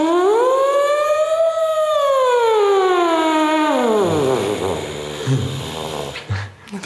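A French horn plays a long rising then falling glide that mimics a police siren wail, loud and close, trailing off into quieter noise at the end.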